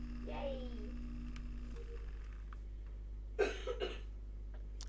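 Faint coughing from a child indoors: a short cluster of two or three quiet coughs over a constant low hum.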